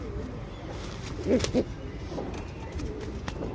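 A Tamral male pigeon gives a couple of soft, low coos near the middle, set against a steady, faint room background.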